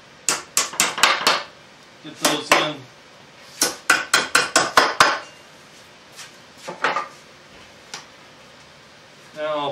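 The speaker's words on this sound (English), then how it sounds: "Sorry, I got my hammer." A hammer taps wooden dominos into a kitchen table joint with quick clusters of sharp, close raps separated by pauses. A person says a few words between the strikes.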